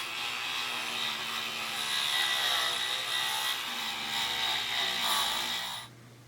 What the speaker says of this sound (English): you just take a Dremel with the wire wheel attachment